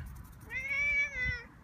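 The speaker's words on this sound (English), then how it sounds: "a short, high-pitched meow" A cat gives a single short, high-pitched meow, clear and close, lasting about a second against faint background noise.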